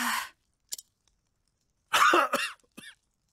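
An ailing father character coughs in the video game Octopath Traveler, a short hoarse cough, then after a pause a harsher double cough with throat clearing, close and clear against silence.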